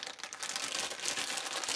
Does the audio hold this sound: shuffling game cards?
yes